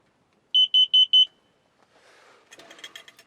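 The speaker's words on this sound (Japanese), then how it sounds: "一酸化炭素警報器もつけておこうと思います。" Four quick, piercing beeps from a carbon monoxide alarm at a winter campsite, followed by faint rustling and handling noises.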